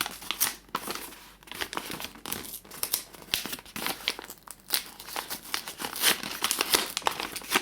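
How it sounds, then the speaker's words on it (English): Paper bag crinkling and rustling as its folded bottom is loosened by hand, a steady run of close, crisp crackles and crumples with no talk. "So you loosen the bottom of the paper bag."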